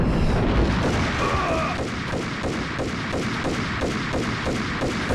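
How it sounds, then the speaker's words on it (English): Grenade blast in the Max Payne video game, heard as a loud, dense booming rumble that holds steady through the whole stretch, layered with repeated thudding bursts and game noise. "Oh, hit a grenade."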